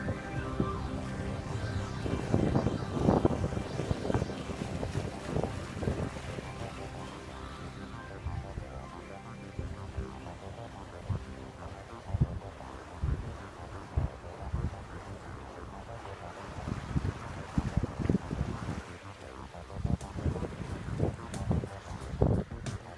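A sailboat under sail moves through open water among the San Juan Islands, with steady wind buffeting the microphone over a continuous wash and rush of water along the hull.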